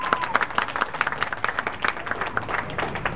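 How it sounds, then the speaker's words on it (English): A bowling alley crowd applauds with a loose patter of many hands clapping at moderate distance. A voice comes through faintly underneath. "Big round of applause for the crowd trying to keep her chin up there."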